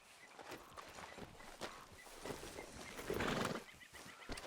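A horse in the video game Red Dead Redemption 2 neighs and its hooves clip-clop, heard faintly over soft outdoor ambience.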